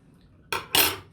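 Metal cutlery clinking against a dish while tossing and tasting a freshly mixed salad: two bright, close scraping clatters in quick succession after a short quiet pause, no voices.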